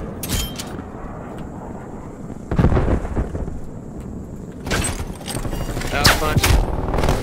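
Heavy gunfire and explosive bursts in Call of Duty Black Ops Cold War hardcore free-for-all, loud and close in uneven clusters, with rumbling blasts and players talking over the action.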